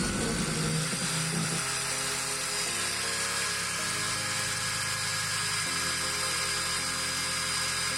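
A DCA ASM02 angle grinder runs steadily at full speed, a loud, continuous high-pitched whine with a constant hum underneath that shifts slightly in pitch, with no voices.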